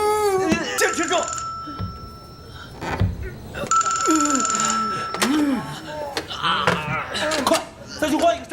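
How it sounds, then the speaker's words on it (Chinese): A telephone ringing from inside a wall of the Jincheng Bank warehouse, an insistent electronic bell in two long bursts, partly buried under urgent shouting and distressed voices nearby. "这墙里好像有个电话"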